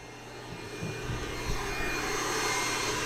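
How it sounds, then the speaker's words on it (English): Plugged-in electric heat gun whirring with a steady, breathy, vacuum-like fan roar that swells slightly and then holds constant, loud and close with no talking, during work on a Ford 351C engine build. "Started making a weird vacuum sound."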